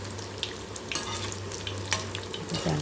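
Raw banana bajji deep-frying in hot oil at a roadside tea-shop style stall, a steady close bubbling sizzle with small crackles and a faint clink near the end, no talking.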